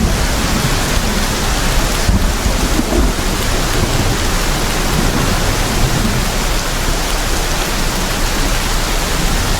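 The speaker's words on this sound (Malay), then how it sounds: "Oh, kilat." Loud steady rain roars with rolling thunder in a horror video game set in a haunted house, a dense unbroken wash of storm noise with a heavier rumble early on and no talk.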